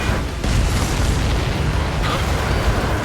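An enemy transport plane blows up in the Ace Combat 7 combat flight game, a dense, roaring boom with sustained rumble filling the whole moment over continuous jet noise.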